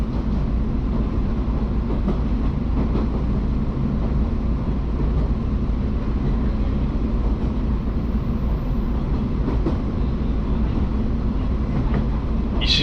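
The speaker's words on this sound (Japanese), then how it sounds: "石部駅で貴生川草津間の区間電車と行き違い。" A JR 113 series local electric train passes at Ishibe Station on the Kusatsu Line, a steady loud rumble of wheels and motors sustained throughout with no letup.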